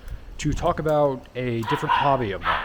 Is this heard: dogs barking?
yes